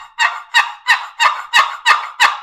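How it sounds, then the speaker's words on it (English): A Pins Woods wooden turkey box call is stroked seven times in an even rhythm, each yelp loud, close and distinctly raspy, with no other sounds between strokes. "We have got a Pins Woods box call."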